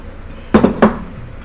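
Two quick clinks of crockery ring out close by as a dish is taken out in a home kitchen, brief clattering knocks against a quiet background.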